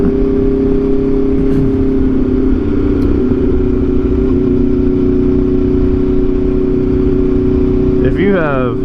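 Loud, steady engine drone from an Aprilia RSV4 sport motorcycle while riding, with wind rush throughout and a brief rise in pitch near the end.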